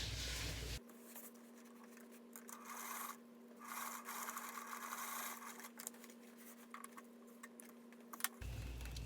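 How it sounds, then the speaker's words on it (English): A sewing machine runs steadily while stitching vinyl cording, giving a faint, continuous motor hum with light scraping and rubbing of the material throughout. "I'm now going to put it in my machine, sew it up, and be done with the welting or the cording on this side."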